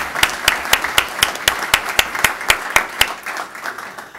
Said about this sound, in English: let's give a big round of applause for our three candidates